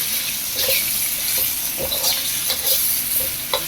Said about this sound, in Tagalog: Hugasan muna at patuluin.